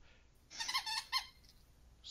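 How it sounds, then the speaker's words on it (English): A short burst of high, squeaky chirps, like a phone alert, sounds over about three-quarters of a second, followed by one more brief squeak. It is fairly clear against a quiet room background. "Squeak. I hear squeak."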